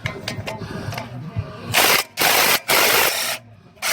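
Wrench work on a brake caliper bolt of a GMC Envoy, giving loud bursts of mechanical ratcheting in separated blocks after a quieter stretch of faint clicks and shuffling.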